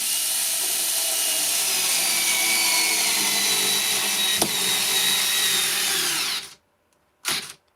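A cordless Dyson drill drives sheetrock screws with no pilot hole, a loud steady whine running for about six seconds, then cutting out abruptly as its built-in clutch trips, followed by one short final burst.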